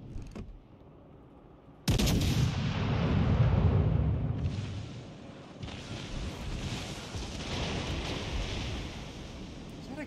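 A King George battleship fires AP shells in World of Warships Legends, a sudden heavy blast followed by a long roaring rumble, then a second surge of booming noise amid wind-like sea ambience.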